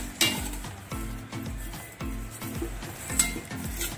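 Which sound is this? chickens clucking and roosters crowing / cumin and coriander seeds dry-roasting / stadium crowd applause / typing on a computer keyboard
cumin and coriander seeds dry-roasting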